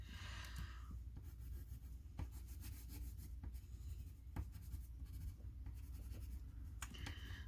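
An orange crayon rubbing steadily across a card in close, continuous strokes, a soft waxy scratching with small rhythmic variations and no voices.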